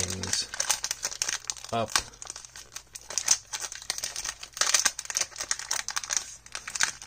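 1992 Topps football card pack wrapper being opened, with crinkling and tearing of the wrapper in bursts, close and crisp, a voice speaking briefly among the rustles.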